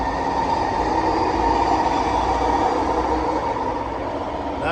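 A SkyTrain rolls past in New Westminster, British Columbia, on a foggy winter day, giving a steady, loud rumble and rail hum that holds evenly throughout, with no talking.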